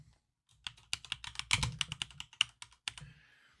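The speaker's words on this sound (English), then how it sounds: "type the username as administrator" Someone types a username into a Windows security prompt on a computer keyboard, a quick run of crisp, close keystrokes in uneven bursts that end with a short pause, with no voices.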